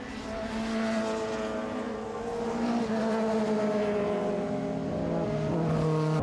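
Race car at full power along the main straight of Lakeside Park Raceway during a Queensland Sportscar Championship round, a loud sustained engine drone with steady harmonic tones holding for several seconds, close and continuous, no talk over it.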